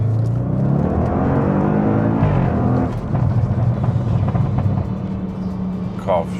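An Audi S8 Plus with a Stage 2 tune, its engine droning and rising in revs, holding steady underneath as people talk over it.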